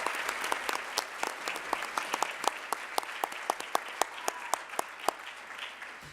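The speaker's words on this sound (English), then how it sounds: "let's give another round of applause for all of the nominees on stage" Audience at a regional educators awards ceremony applauds the nominees on stage, a steady stretch of sharp individual claps blending into a lively ovation, fairly close and clear with no talking over it.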